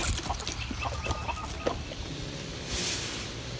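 Chickens clucking softly as a new Buff chicken meets the backyard flock, scattered low murmuring clucks over a steady outdoor background, fairly distant and quiet with no talk.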